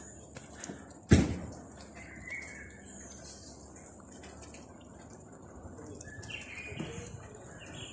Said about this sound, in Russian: Ой, птички как поют с правой стороны.